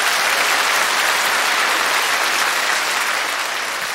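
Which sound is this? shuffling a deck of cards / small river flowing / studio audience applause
studio audience applause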